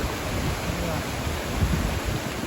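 A waterfall pours into a burn in Dumfries and Galloway, Scotland, making a steady, close, rushing hiss that carries through a brief moment with some wind.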